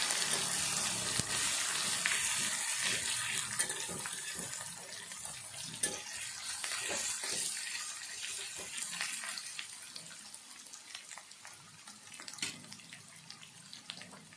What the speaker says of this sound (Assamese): এতিয়া মই ভালদৰে ৰঙচীয়া কৰি ভাজি ল'ম